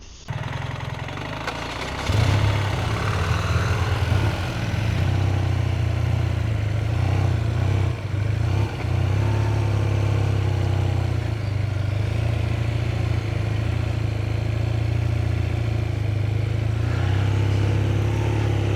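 A 2025 BMW R12 GS motorcycle runs at a steady, loud, low engine drone close by, starting and pulling away after a brief pause, then holding a constant throb with slight variations throughout.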